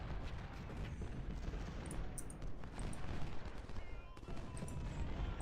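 Musket volleys crackle in Ultimate General: Civil War during a Cross Keys battle, a faint, ragged stream of distant gunfire with a few sharper shots scattered throughout.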